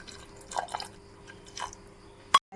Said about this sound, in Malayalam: മൂന്ന് ടേബിൾ സ്പൂൺ വെള്ളം ഒഴിച്ച് നമുക്ക് പാനിയാക്കാം